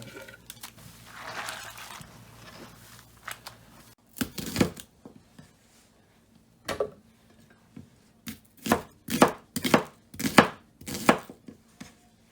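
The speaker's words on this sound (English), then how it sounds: "So now I'll cut all the vegetables and blend them" A knife chops vegetables for moi moi on a cutting board, starting with a few scattered taps and building into a quick run of sharp, close, evenly spaced knocks.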